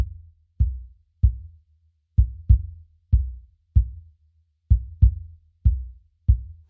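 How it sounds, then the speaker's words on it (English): Kick drum samples blending a kick-out mic and a kick sub mic: about ten deep, booming thuds at uneven spacing, each with a quick attack and a short low decay, heard alone. "I think Lewis here has combined the kick out and a kick sub mic together"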